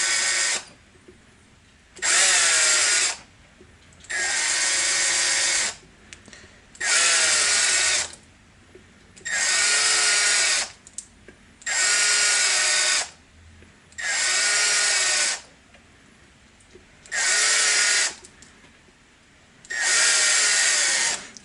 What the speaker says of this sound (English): I'm just going to drill a series of holes.